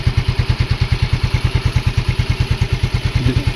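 A Yamaha Mio Soul i 125 scooter engine runs at a steady, loud idle close by, with a fast, even chugging pulse and light mechanical clatter throughout.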